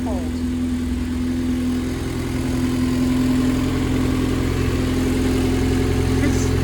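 A Honda K24 engine in a Honda Civic idles loudly and roughly with no exhaust fitted, only the manifold, a steady low rumble and raw, unmuffled tone, running continuously throughout.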